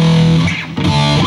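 Electric guitar played through a Boss eBand JS-10 on a general clean tone patch, sustained chord notes ringing close and steady, a brief dip mid-phrase before new notes ring out.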